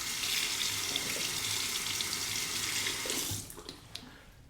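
A tap runs in a steady, close splashing stream while a Merkur 34C safety razor is rinsed mid-shave, then cuts off near the end, leaving a few faint drips.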